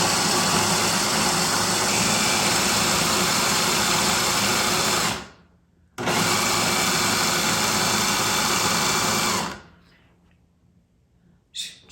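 A food processor grinds peanuts into peanut butter in two loud, close pulses, each a sustained whirring roar that cuts off sharply, the first lasting about five seconds and the second a bit shorter, followed by quiet.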